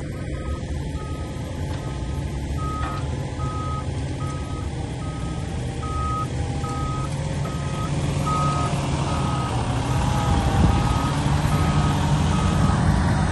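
A fully loaded 80,000-pound dump truck reverses during proof rolling of a first foundation lift, its backup alarm beeping in a steady evenly spaced series over a loud, constant diesel engine rumble.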